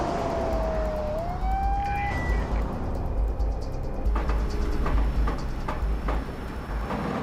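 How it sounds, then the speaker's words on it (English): A police car siren wails briefly in a video game, sliding upward in pitch before it cuts off, over a constant low engine rumble followed by rapid clicking bursts. "It's police car."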